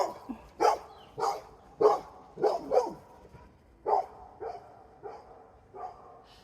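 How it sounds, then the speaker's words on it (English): A guard dog barks close by in a rural outdoor setting, giving about ten sharp, separate barks in an irregular rhythm, loud and with no voices over them. "She's the best guard dog."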